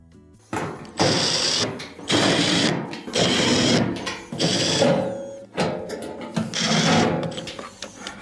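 A power screwdriver drives a screw while a washing machine's rotor assembly is reinstalled, whirring in five or six loud bursts of about a second each, separated by short pauses.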